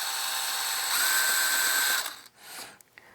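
A power drill with a 1/8 bit spins steadily at high pitch to make a center mark for a guitar tuner hole, its whine rising slightly midway before winding down and stopping.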